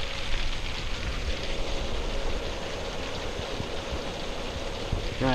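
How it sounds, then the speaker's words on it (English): Heavy rain pouring down outside an RV, a loud continuous roar of rainfall with a constant rushing wash and no letup. "It just started pouring."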